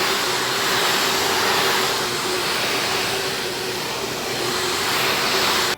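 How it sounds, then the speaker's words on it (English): A VacMaster wet-dry vacuum with its muffler attachment removed roars continuously and loudly, a harsh unmuffled whoosh with a steady whining hum underneath. "That's what the vacuum cleaner sounds like without that little muffler attachment"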